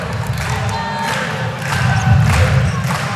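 A large arena crowd at an NCAA men's volleyball championship match involving Hawaii roars and cheers after a point, loud and continuous with rising shouts and a few thumps.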